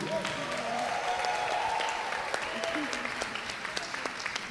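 An audience applauds at the closing plenary session of a 2015 event, a dense, steady clatter of many hands clapping close by, with a few voices faintly mixed in throughout.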